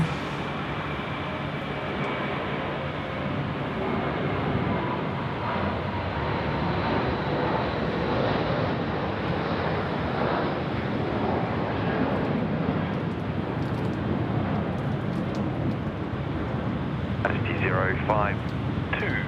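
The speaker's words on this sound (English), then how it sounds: "Now we've got our Malaysia Airlines friends now ripping it out. Runway 34 left, going home to KL." A Malaysia Airlines jet takes off from runway 34 left at Sydney Airport in wet weather, a broad, sustained engine roar holding steady at a distance throughout.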